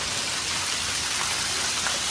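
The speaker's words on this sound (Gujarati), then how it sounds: "વરસાદ હવે ધીમો ધીમો પડવા માંડ્યો હવે ટાઢો પડ્યો વરસાદ" Steady rain falling in Mehsana after a heavy downpour, now easing off; a continuous, even hiss of drops on surfaces close by, with no voices over it.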